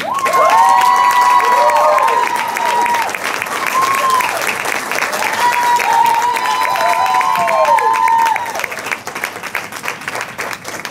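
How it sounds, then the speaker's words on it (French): A school show audience at a secondary-level student performance applauds loudly with cheers and whoops rising above the clapping, continuous for about eight seconds before easing off. "Alors, je voudrais qu'on l'applaudisse."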